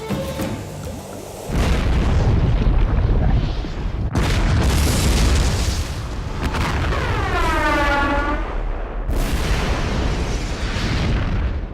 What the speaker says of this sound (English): set off a massive explosion with the force of 40 atomic bombs